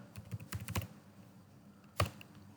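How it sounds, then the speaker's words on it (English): Quiet, close typing on a computer keyboard: a quick cluster of keystrokes, a pause, then a single sharper key press. "So now in third text box I am typing here"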